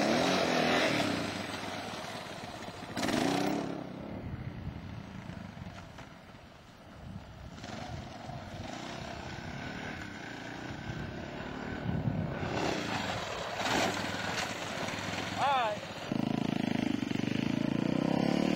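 Honda motocross dirt bike engine revving and droning at a track in Hardwick, Connecticut, a steady buzzing roar that swells and fades over the whole stretch with no talk.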